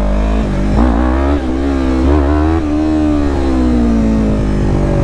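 Yamaha R3 motorcycle engine revving hard with the throttle held open, a loud, close, sustained roar that rises and dips in pitch.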